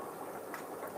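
A fish tank filling with water, heard as a steady bubbling, gurgling flow with no pauses, fairly faint and at middle distance, with no voices.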